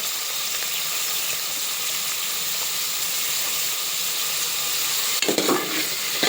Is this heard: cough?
no